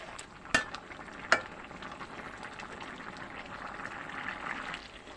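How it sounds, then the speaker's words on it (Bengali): Pumpkin curry simmering in a pan as cumin powder is stirred in, with a steady soft sizzle and bubbling throughout and two sharp utensil clinks against the pan early on; no voices. "এখন আমি গুঁড়িটাকে একটু নেড়ে চেড়ে মিশিয়ে দেব"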